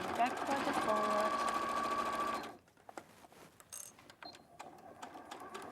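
A sewing machine stitches a make-up bag in a quick, loud mechanical run for about two seconds, then stops, leaving quiet handling clicks and light movement.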